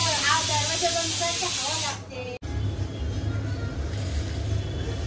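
Pressure cooker on a gas stove releasing its whistle in a loud, close, continuous hiss that cuts off abruptly, followed by a softer steady hiss of escaping steam.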